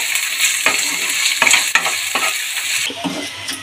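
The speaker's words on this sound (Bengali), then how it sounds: "দিয়ে আদা রসুন বাটাটাকে ভালো করে নেড়ে ভেজে নেব" Ginger-garlic paste and onions frying hard in hot oil, a steady close sizzle broken by repeated scrapes and knocks of a spoon stirring the pan, with no one talking.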